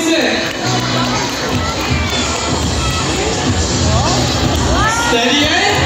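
A crowd at a sea lion show at Manila Ocean Park cheers loudly, with children shouting and whooping over a dense, steady babble of voices, all close and continuous.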